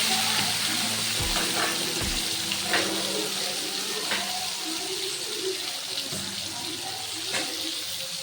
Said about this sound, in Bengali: এবার এটা ভালো করে ভেজে নেব।